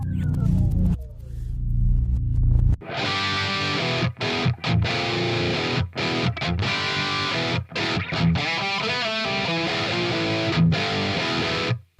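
A heavily distorted electric guitar plays continuously through a speaker cabinet impulse response from the MO Mega Green cab pack, loud and dense, with a few brief gaps between riffs after a quiet opening.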